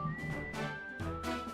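Whistling carries the melody in video game background music, a soft tune of short rising and falling phrases over gentle accompaniment, steady and low in level.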